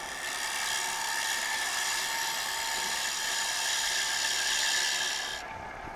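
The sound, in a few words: wood lathe taking light cuts on a turning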